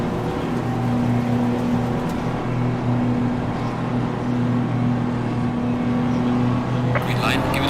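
BMW M4 GT3 race car engine in Assetto Corsa Competizione drones steadily at a held pitch, loud and continuous, with a brief sharper burst near the end.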